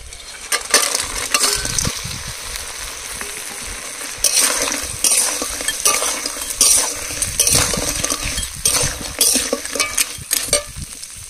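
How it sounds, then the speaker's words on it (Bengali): Cut crab pieces go into fried spices and are stirred vigorously, with repeated metallic scraping and clattering of a spoon against the pan over a sizzling hiss, close and lively. "মশলাগুলো কষিয়ে নিয়েছি, এবার কেটে রাখা কাঁকড়া দিয়ে দেবো"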